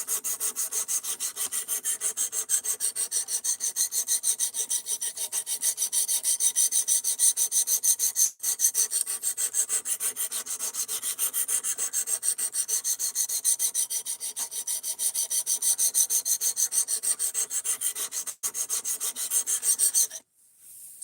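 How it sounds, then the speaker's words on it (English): A long, continuous run of fast, even scraping strokes as an Ozark Trail Axis Lock D2 knife is sharpened on a stone, with two brief breaks before the rasping stops near the end, close up and without speech. "we are sharpening this knife before we go fuck the edge up all over again"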